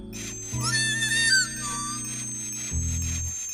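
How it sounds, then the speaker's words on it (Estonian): A cartoon dog whistle gives a shrill, warbling tone over a sustained musical chord, rising and wavering for about a second before the backing music carries on alone. "Koera vile, eraldi meie piinamiseks mõeldud."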